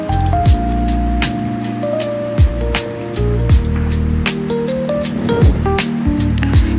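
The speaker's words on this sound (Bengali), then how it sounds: "আবার ওই তেলের মধ্যে আমি সব গোটা গরম মশলাগুলো ফোড়নে দিলাম" Whole garam masala with bay leaf, dried chilli, cardamom and cumin sizzling in hot oil in a pan: a continuous close crackling hiss, joined by occasional sharper pops and clatters.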